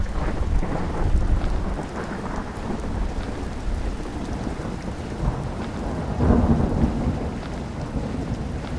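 Steady rainfall with deep rolling thunder from an old video game project's ambience, a continuous hiss of rain on surfaces punctuated by several low rumbling swells, no talking.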